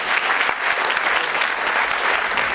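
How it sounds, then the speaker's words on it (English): Audience applause at a presentation, dense and steady clapping from a crowd filling the whole stretch evenly and loudly. "one more round of applause"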